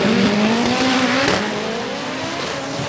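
A turbo drag racing car accelerates hard down the strip, its loud engine note climbing in pitch through gear changes, then fading slightly as it pulls away.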